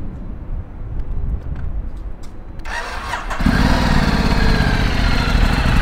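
A Ducati 1260 Multistrada Pikes Peak motorcycle engine cranks and fires up partway through, then settles into a loud, steady running idle close by after a quieter lead-in.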